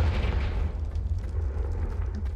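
Confringo blasting spell explosion in the Hogwarts Legacy video game, a heavy, sustained low rumble with crackling noise on top, loud and steady for the whole stretch.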